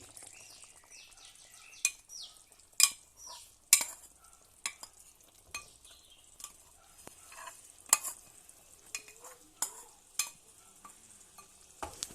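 Roasted, ground coconut paste going into a pot of boiling ginger curry, with sharp intermittent clinks and scrapes of a spoon against the vessel over a faint bubbling background.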